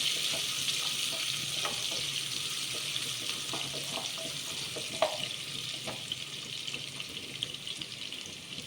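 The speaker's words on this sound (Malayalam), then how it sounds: "എന്നിട്ട് നന്നായി വഴറ്റി കൊടുക്കാം." Onions and whole spices such as cinnamon and cloves sauté in a pan for prawn biryani, giving a soft, steady sizzle with occasional light scrapes and taps of a stirring spoon.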